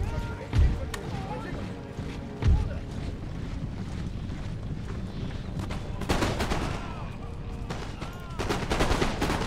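Musket volleys in the Empire: Total War video game with Great Britain's troops, two distinct booming shots early on, then a crackling, rolling volley of scattered gunfire later, with someone talking throughout.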